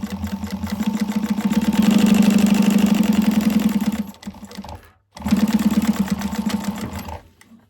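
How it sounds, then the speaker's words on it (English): Sewing machine running steadily as it top stitches a raw edge 1/8 inch in, two loud sustained bursts of fast mechanical whirring with a brief pause between. "So I'm just going to top stitch it."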